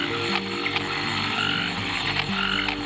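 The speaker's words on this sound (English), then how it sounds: "These golden-backed frogs are busy trying to attract mates." Golden-backed frogs call to attract mates in a dense, loud chorus of rapid, ratcheting croaks that repeat in pulses against a constant background of further calling frogs and insects.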